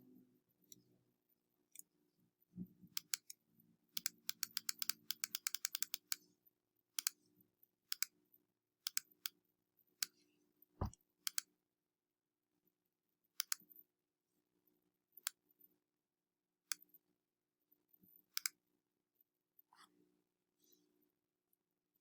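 Computer keyboard and mouse clicks during photo editing with a clone stamp tool, sounding as sparse, sharp, close taps with a brief rapid burst early on, then isolated clicks over near-silence.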